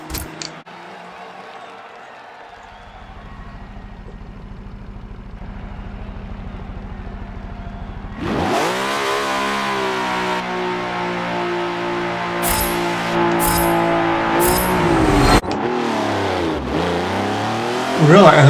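Jaguar XJ220 in Forza Motorsport 7 idling, then launching hard, its engine rising through long gear pulls with shifts, a voice talking over it.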